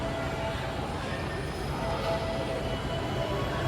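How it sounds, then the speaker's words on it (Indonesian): The Fajar Utama Jogja passenger train pulls away from Purwokerto station with a continuous heavy rumble of rolling wheels and carriages and a faint high whine over it. "Ada kereta api Fajar Utama Jogja yang baru berangkat dari Purwokerto"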